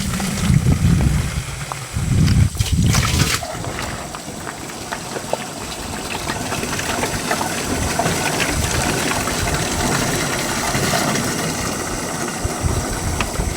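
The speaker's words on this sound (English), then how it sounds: "I'm triple rinsing all these jugs to get all the chemical out of them." Chemical jugs on a tobacco farm are triple rinsed with water, sloshing and gushing close by at first, then a continuous splashing rush with an engine idling underneath.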